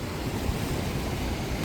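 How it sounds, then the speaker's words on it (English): Cold wind blowing straight in off the ocean at a beach in Benidorm, Spain, rushing constantly across the microphone with a low roar of surf beneath. "with having these winds out straight from the ocean"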